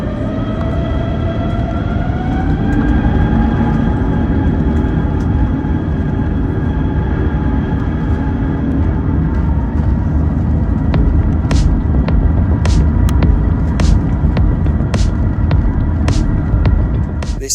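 An Airbus A350-1000 jet at takeoff gives a loud, steady engine roar with a whine that rises early on, then holds a deep rumble, with a few sharp clicks near the end.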